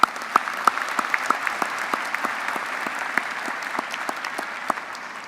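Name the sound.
applause, clapping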